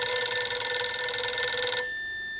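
An electronic telephone ringer sounds a steady, bright, tonal trill for nearly two seconds, then cuts off abruptly, leaving a faint lingering tone; the sound is clear and alone, with no talking.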